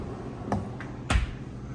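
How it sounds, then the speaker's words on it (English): A newly installed door closer shuts a walk-in cooler door, a soft knock followed by a firmer thud as the door settles, with quiet room noise around it. "Door closer is installed."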